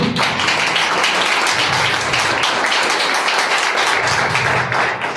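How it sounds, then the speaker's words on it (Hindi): An audience at a Christian religious gathering breaks into sustained, dense applause, loud and continuous for several seconds with no voices standing out. "अक्कू के लिए तालियां बजानी चाहिए"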